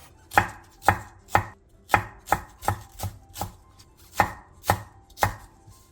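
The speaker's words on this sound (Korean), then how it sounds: "양파 2분의 1개를 채 썰고 청양고추 2개, 홍고추 2분의 1개, 대파 3분의 1개는 어슷썰게 해주세요" A knife chops through halved onion, green and red chili peppers, and green onion on a cutting board in a Korean home kitchen, giving about a dozen crisp, fairly even thuds close by with no talk.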